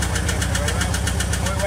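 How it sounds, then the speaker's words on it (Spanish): A 2006 Jeep Liberty engine runs at a steady idle with a faint, slightly uneven pulse, loud and close throughout the short stretch. "Está muy ligeramente inestable el motor, pero se oye perfectamente bien."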